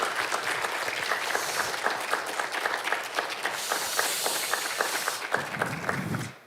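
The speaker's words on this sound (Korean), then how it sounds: "좋은 연주해 주신 분께 다시 한번 박수 부탁드립니다" Audience claps for a gayageum performer at a Korean traditional music talk concert, a close, continuous round of many hands with crisp individual claps that breaks off abruptly at the end.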